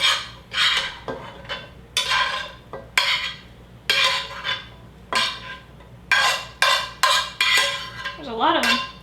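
Vegetables stirred into cooked rice in a pot, with a series of scraping, clattering spoon strokes in uneven bursts separated by short pauses, close by.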